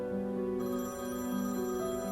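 A phone rings steadily in a home, its electronic ringtone tone pattern continuing faintly, with no talk.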